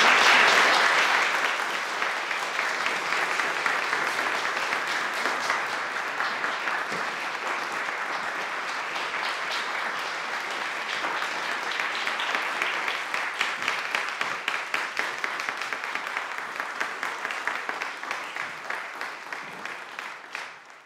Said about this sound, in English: Please join me in welcoming Dr. Tom Curran to the world.